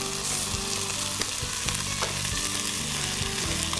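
A tortilla fries in a pan with a steady, close sizzle and crackle, while a utensil scrapes and clinks now and then as it is readied to flip; no one speaks.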